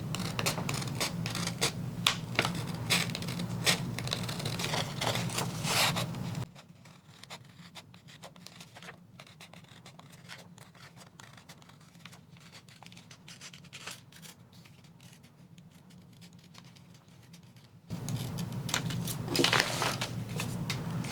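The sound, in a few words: scissors cutting out printed sublimation designs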